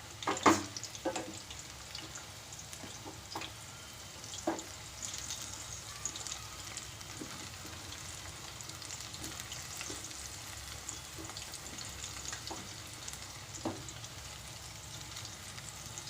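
Cauliflower pakoras coated with rice flour frying in oil, a quiet continuous bubbling sizzle with scattered clicks and scrapes of a ladle stirring, heard from close by without speech.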